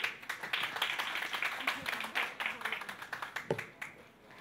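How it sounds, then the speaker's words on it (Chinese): A small audience at a campus songwriting contest final claps for a contestant, uneven and fairly sparse hand claps with a few louder individual claps, at moderate distance. "所以让我们掌声欢迎胡许佳来"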